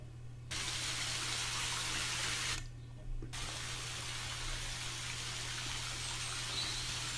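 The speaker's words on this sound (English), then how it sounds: "I think I'd love a waterfall like that in my garden" A waterfall at Blarney Castle rushes with a steady broadband roar that cuts out briefly twice, with a constant low hum underneath.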